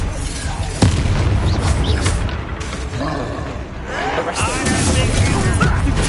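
A Bombarda spell explodes in Hogwarts Legacy with heavy booming blasts amid dense, continuous battle noise, with voices mixed into the chaotic combat sounds.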